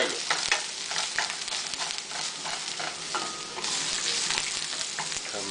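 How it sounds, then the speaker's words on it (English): Garlic and red pepper stir-fried in a hot pan for General Tso's chicken: a steady, close sizzle with repeated scraping and clacking of the spatula throughout, no voices. "Put some garlic in there. Also the red pepper. And stir fry that."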